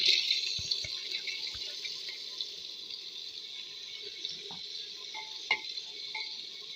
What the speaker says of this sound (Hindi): अब हम इसके साथ डाल रहे हैं दाल।